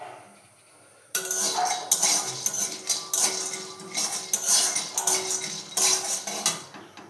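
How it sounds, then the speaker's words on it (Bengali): Peanuts are dry-roasted without oil in a hot wok over a gas flame. After a quiet start, they are stirred with a continuous close-up rattling and clattering that rises and dips in bursts. "কড়াই গরম হয়ে গেলে আমি বাদামগুলো শুকনো খোলায় ভেজে নেব"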